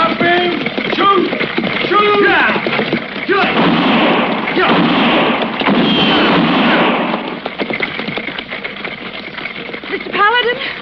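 Gunfire sound effects in an old radio drama sound as a loud, dense burst of rapid shots lasting several seconds, with actors shouting around the volley.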